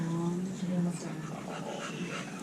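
A puppy whimpering and panting softly for a couple of seconds, close by, at a canine CPR session held with a veterinary clinic and a rescue group, with people talking over it.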